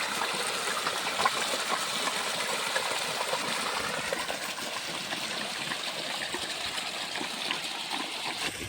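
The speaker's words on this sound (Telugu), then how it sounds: "నీళ్ళు వచ్చేసినాయి" Irrigation water gushes steadily into a paddy seedling field, a continuous rushing, splashing flow that stays even and close throughout with no voices.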